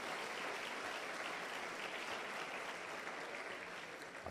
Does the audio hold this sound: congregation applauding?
yes